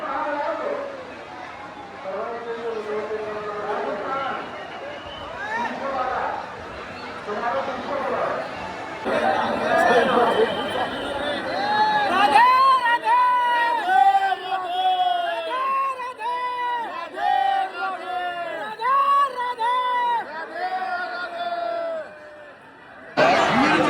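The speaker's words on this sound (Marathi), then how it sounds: "खूप गर्दी बघा कशी चेपली" A dense crowd of devotees packed inside Banke Bihari temple in Vrindavan, a steady close wash of overlapping chatter and voices with bursts of calls and laughter throughout.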